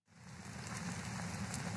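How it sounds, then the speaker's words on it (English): Steady rain background noise from the Noisli app, a dense continuous patter of drops on a surface that fades in quickly and holds at an even, soft level. "it's giving me a raining background noise"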